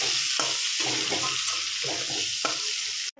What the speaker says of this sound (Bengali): চলো পেঁয়াজটা ভেজে নিয়ে আগে